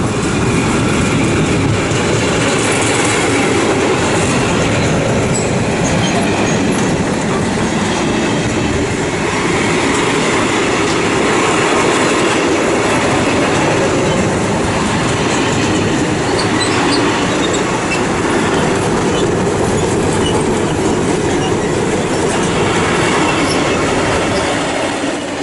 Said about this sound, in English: Right, I'm about to pass through now, it's a 66.